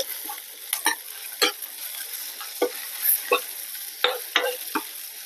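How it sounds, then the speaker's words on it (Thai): Ingredients for a mixed mushroom curry are stir-fried in a pan, a steady sizzle broken by a dozen quick spatula scrapes and clacks at irregular intervals, close and clear without talking. "คั่วไปเรื่อย ๆ"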